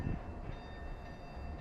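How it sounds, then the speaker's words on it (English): A train in the Roblox game Rails Unlimited rumbles with a faint, continuous low rolling noise and a thin high tonal whine, steady throughout without a horn blast. "That must be a train or something."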